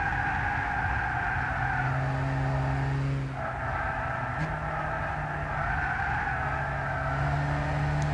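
Race car engine in the Gran Turismo 6 racing game, droning loud and steady with sustained harmonic tones, dipping briefly around a gear change before pulling hard again, with a faint tire squeal layered in; no voices.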